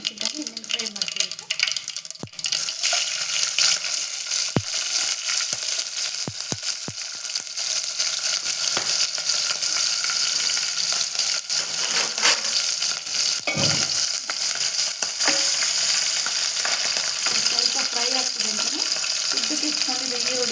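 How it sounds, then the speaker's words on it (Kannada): Green chillies fry with cumin in a pan for a Kannada puri sagu recipe, giving a steady close sizzle broken by scattered clicks and scrapes of stirring, with someone talking over it. "ಹಸಿಮೆಣ್ಸಿನ್ಕಾಯಿ ಇನ್ನೇನು ಫ್ರೈ ಮಾಡ್ತೀವಿ."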